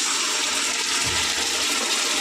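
Hot water poured into ground coriander, cumin and chilli while cooking, a short steady gushing splash heard close up on its own.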